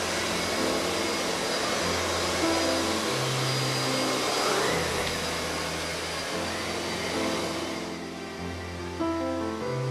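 Miele S7 vacuum cleaner running continuously with automatic suction, a loud close motor whine and airflow rush whose pitch shifts slightly as it passes over different flooring.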